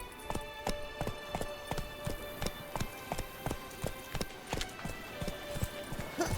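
Roach, the horse in Witcher 3, gallops in a steady, fast rhythmic clip-clop of hooves, close and clear, with faint background game ambience.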